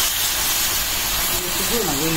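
A little water hits a hot pan of frying curry and sets off a loud, steady steam hiss, with a voice speaking briefly near the end.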